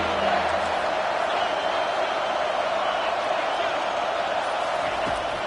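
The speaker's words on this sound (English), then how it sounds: "This crowd knows this defense needs them right now" Football stadium crowd at Missouri vs Alabama roaring for the home defense, a dense, steady wall of cheering that holds at high level throughout with no breaks.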